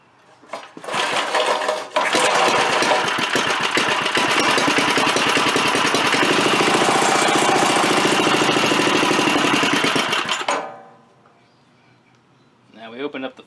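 A repaired Merry Tiller's small engine fires up after a second, runs loud and steady with a rapid buzzing chatter for about nine seconds, then cuts out and falls nearly silent.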